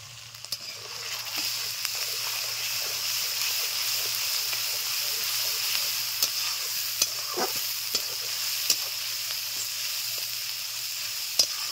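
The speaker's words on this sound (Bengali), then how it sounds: "ভালো করে কষে নেব।" Boal fish frying with cumin, coriander and dried chilli paste, a steady close sizzle with a low hum beneath and occasional sharp ticks of the spatula, no voices.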